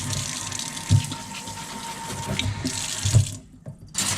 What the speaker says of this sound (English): water these just slightly.